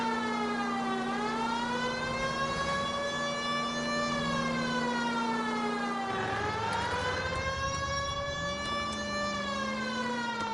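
A police car siren in the video game L.A. Noire wails continuously and loudly, with rising and falling sweeps and a steady engine drone beneath, sustained without pause for about ten seconds.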